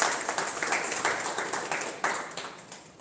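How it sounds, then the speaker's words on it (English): A small group at a Toastmasters club meeting gives a faint round of applause. The scattered hand claps are quiet and slightly distant and trail off over a few seconds. "shall we have a big round of applause?"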